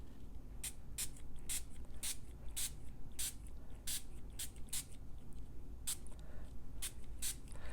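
A spray bottle fires short, sharp misting bursts of water onto watercolour paper in an irregular rhythm, about a dozen quick pumps over a soft background hiss.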